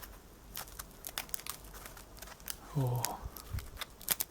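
A piece of tinfoil is crinkled in close, crisp bursts of crackling, with a soft voice murmuring around it.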